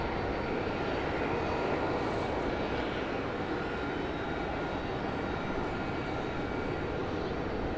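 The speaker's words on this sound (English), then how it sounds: "Got American Airlines 737 getting ready to depart." An American Airlines Boeing 737 readying for departure at Raleigh-Durham International, a steady loud broadband jet engine roar that holds constant throughout, with no voices.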